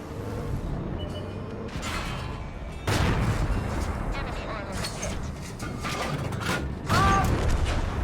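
Tank cannon fire in World of Tanks, heavy booming shots ringing out over continuous battle rumble and mechanical noise, with two loud blasts standing out partway through and near the end.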